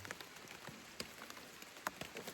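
Rain falls on a winter campsite overnight: a faint, steady patter with scattered sharper drops landing on a nearby surface, and no voices.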